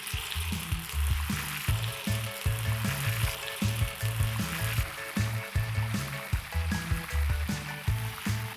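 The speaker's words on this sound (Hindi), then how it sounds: "एक एक करके केयरफुली तेल के अंदर ड्रॉप करना।" Soya chunk balls for Manchurian deep fry in hot oil over a medium flame, a steady close sizzle and bubbling with a regular pulsing pattern running throughout, no voices.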